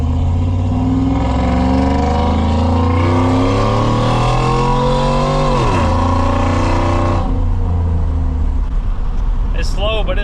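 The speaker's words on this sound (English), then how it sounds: "So I figured I'd give y'all a pull in the Silverado real quick." Chevrolet Silverado pickup accelerating hard, its loud engine climbing steadily in pitch, easing off briefly, then pulling again before dropping away near the end.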